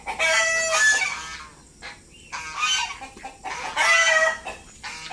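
Domestic geese, called Peking duck by the farm, honk in loud repeated bursts on a rural farm, three clusters of harsh nasal calls separated by short pauses, close by.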